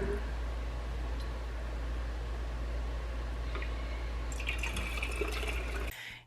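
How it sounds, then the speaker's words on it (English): Broth is poured into glass jars in a home kitchen, a steady liquid pour and splash running continuously and close, ending abruptly near the end. "I might go back and add more broth"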